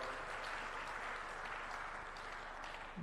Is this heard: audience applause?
yes